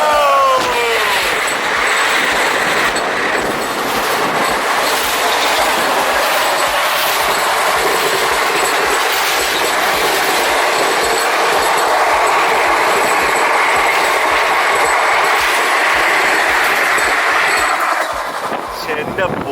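Another train rushes past a halted Rajdhani Express, a loud, close, continuous roar of wheels and wagons with rhythmic clatter that lasts throughout and then cuts off.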